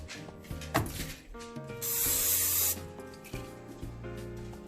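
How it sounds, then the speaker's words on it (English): A short hiss of cooking spray lasting under a second, set against background music with light rubbing and handling sounds. "you want to spray this with a non-stick cooking oil"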